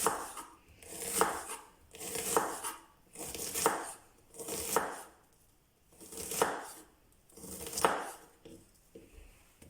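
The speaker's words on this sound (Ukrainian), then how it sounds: "Поки будете кришити цибулю" A knife chops steadily through onion on a board, about eight bursts of rapid cuts in an even rhythm, close and clear with no talking.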